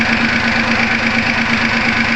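A motorcycle engine idles steadily during an ignition coil voltage test, giving a continuous loud, even drone with a rapid regular pulse and no speech.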